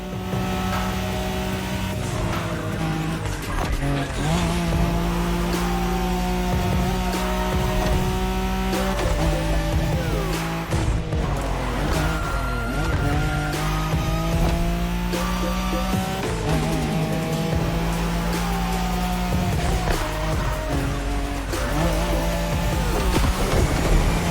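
A Nissan Skyline's racing engine roars in The Crew Motorfest, revving hard and shifting through gears with rising and falling pitch, tires squealing on occasional slides, loud and continuous with no talk.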